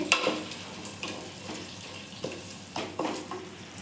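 A spoon stirs curd into tomatoes frying in a pan for plain biryani, with soft scraping strokes and a few sharper clinks against the pan over a low sizzle.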